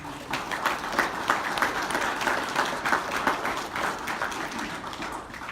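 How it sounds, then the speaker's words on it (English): A crowd at a community open house applauds steadily for several seconds, a dense wash of many hands clapping at moderate volume. "Let's have a round of applause, please, for this."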